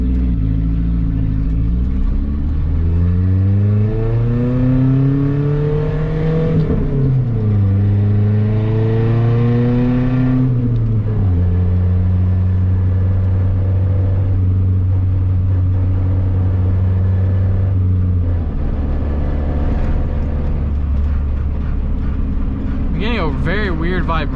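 A Nissan Hardbody truck engine revs up and hangs, its tone climbing and sagging slowly before holding at an elevated pitch, then settling lower, loud and close over a long stretch.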